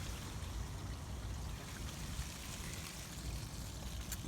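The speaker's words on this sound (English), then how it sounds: "Okay, you can hear some of that coming down." Gray shower water drains from the tank of a Forest River Lexington RV motorhome, a steady low rushing flow that stays even and moderately faint throughout, with no talk.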